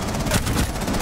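Dense, continuous burst of rapid video game gunfire, loud and close, with a rough, crackling texture throughout.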